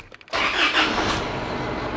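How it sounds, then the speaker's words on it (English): A car engine starts during a DIY coolant flush: after a brief quiet moment it catches and settles into a steady, close idle with a broad, even rumble. "So we'll start up the vehicle."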